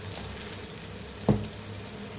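Egg kottu parotta mixture frying in a pan, street food style, giving a steady close sizzle with one brief clack of a utensil partway through.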